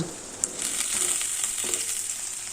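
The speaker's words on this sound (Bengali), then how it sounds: "এবার এই তেলে পটলগুলোকে ভেজে নেব।" Pieces of pointed gourd fry in hot mustard oil in a kadai, a steady close sizzle with scattered small pops and a few soft clicks from the pan.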